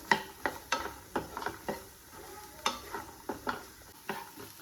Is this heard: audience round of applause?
no